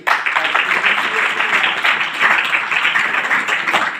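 A church congregation claps together in a dense, continuous burst at a close, loud level, steady throughout the few seconds.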